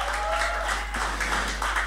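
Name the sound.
congregation cheering and applauding for God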